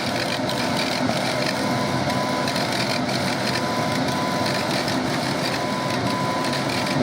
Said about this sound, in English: This is the laser engraving.